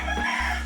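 A rooster crows in one brief, loud, close burst with a strained harmonic tone that cuts off quickly.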